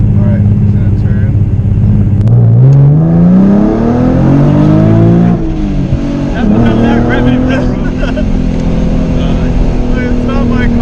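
A supercharged 2014 V6 Mustang revs hard in first gear toward the rev limiter, its engine note climbing steadily, dropping, then climbing again, loud and close from inside the cabin, with people talking over it.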